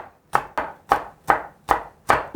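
A knife slices thick pieces of onion on a board with six sharp, evenly spaced chops, each a crisp close thud with a short tail, loud and alone with no talking.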